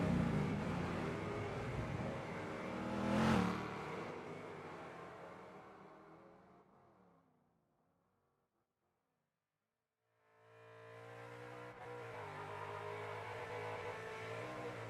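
A racing car engine in the video game Wreckfest 2 revs hard and loud, peaking sharply early on, then fades to silence before the roaring engine returns at steady volume.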